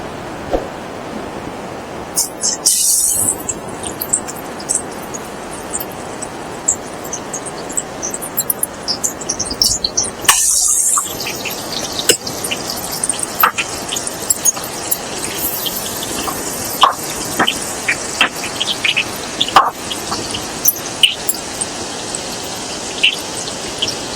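Katla fish pieces hit hot oil and set off a dense, steady crackle with sharp pops scattered throughout, close and fairly loud with no voices.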